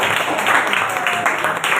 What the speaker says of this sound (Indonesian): tepuk tangan untuk Mas Iqbal